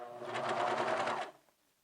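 Serger sewing along the fold of fabric with cording: a short, close mechanical whir with a fast stitching pulse, running steadily for just over a second before stopping.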